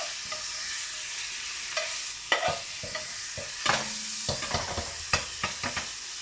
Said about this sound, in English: Soak up the flavours in the pan and just lightly brown it.